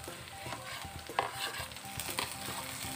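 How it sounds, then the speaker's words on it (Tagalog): Ginger and green and red chili sizzling and frying in a pan while being stirred, a continuous crackle with occasional scrapes and clinks of a utensil, close up and without talk. "Then, lagay natin itong luya."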